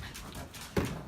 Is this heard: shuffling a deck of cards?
no